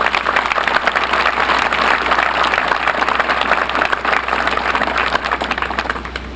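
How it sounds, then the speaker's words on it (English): A large audience at a Louisiana governor's inauguration claps in a loud, sustained round of applause that fills the hall evenly and tapers slightly at the end. "Let's give another great round of applause to Governor Mike Foster."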